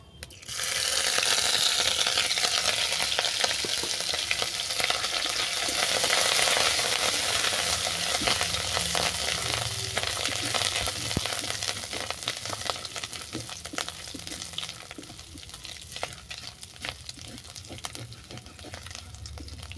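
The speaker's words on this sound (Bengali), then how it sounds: "আদা ভালো করে ভাজা হয়ে গেছে বা কাঁচা গন্ধ চলে গেছে" Grated ginger fries in oil in a pan, giving a steady loud sizzle that fades slightly over time, with occasional stirring scrapes.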